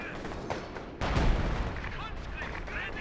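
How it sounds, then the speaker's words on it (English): Howitzer artillery fire in Company of Heroes 2, booming blasts and rumbling explosions that surge after a brief lull, mixed with game battle noise while a commentator talks over it. "Retreat into the howitzer fire potentially though"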